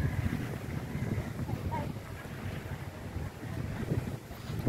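Wind gusts buffet the microphone in a constant low roar by the sea at high tide at Punggol Point, Singapore, with a faint wash of sea in the background and no talking.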